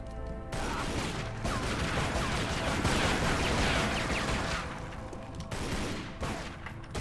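Dense, rapid gunfire from Tomb Raider Legend crackles in sustained bursts for most of the stretch, loud and close, with brief gaps between volleys.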